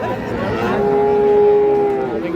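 A cow at a busy cattle market gives a long, steady moo over a crowded background of chatter and livestock noise.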